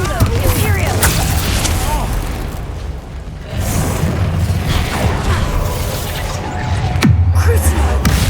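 Explosive Confringo spell blasts in Hogwarts Legacy, loud booming bursts within a dense, continuous din of combat, with sharp cracks near the start and end.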